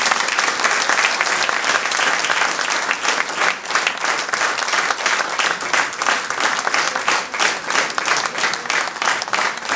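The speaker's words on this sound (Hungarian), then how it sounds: "kérem tapsoljuk meg őket." A town-day council meeting audience in Hajdúdorog claps in dense, sustained applause filling the hall, loud and even for the whole stretch, with no voices over it.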